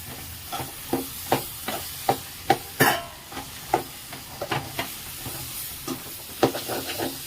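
A spatula stirs prawn curry masala with tomato in a pan, tapping and scraping in a regular rhythm over a soft bubbling hiss, close and moderately loud.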